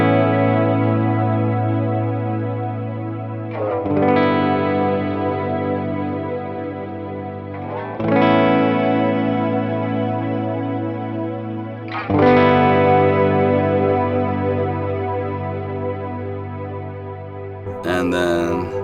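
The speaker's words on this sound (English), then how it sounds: "so it's almost like a freeze delay. Freeze reverb." Guitar chords played through a Catalinbread Softfocus reverb pedal set halfway, struck about every four seconds, each one blooming into a long, shimmering wash that keeps ringing until the next strike.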